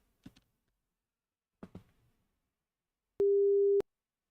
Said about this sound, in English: Should have played a dial tone